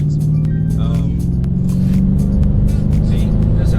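A 2019 Dodge Charger R/T engine, a steady loud rumble heard up close for a few seconds with a faint voice beneath it.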